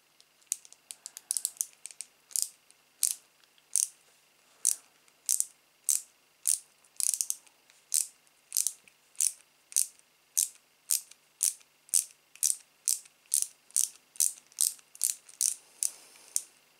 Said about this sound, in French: Donc du coup d'abord un petit taraudage.